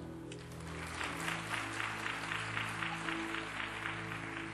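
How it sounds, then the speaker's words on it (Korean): A church congregation applauds together in a sustained, even wave of clapping that fills the room at moderate volume, with no voices over it. "우리 다시 한번 큰 박수로 한번 축복해 주시길 바랍니다"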